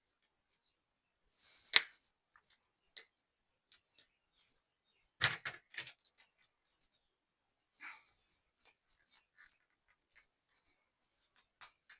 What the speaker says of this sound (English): Cut each of those sides off. Snip, snip, snip.